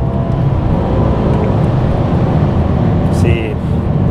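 A BMW M6 V10 engine pulls steadily and loudly under acceleration, a continuous dense roar heard from close by, with someone talking over it.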